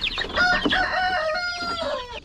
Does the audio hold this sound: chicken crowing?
yes